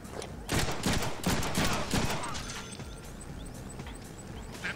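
Bursts of gunfire strike at the player in the Deadpool video game, loud and rapid for the first couple of seconds, then tapering into fainter scattered shots and mechanical clatter.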